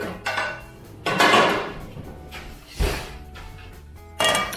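Metal frying pan handled on a home stove, a few separate clanks and scrapes of cookware at close range, with quiet gaps between them and no talk.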